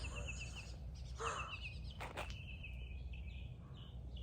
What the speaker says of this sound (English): Do y'all hear these birds?